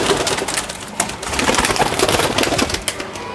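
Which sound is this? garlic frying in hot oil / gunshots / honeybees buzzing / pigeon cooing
pigeon cooing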